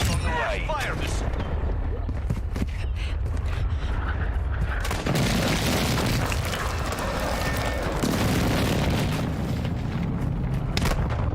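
An airstrike in the battle royale game Call of Duty Warzone, heavy booming explosions and rumbling blasts filling the mix continuously, with game voice lines over the top.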